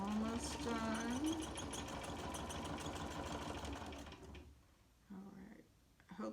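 A sewing machine stitches quilt blocks in a long, steady mechanical whir that runs for several seconds, then stops, followed by a couple of short bursts and some handling noise.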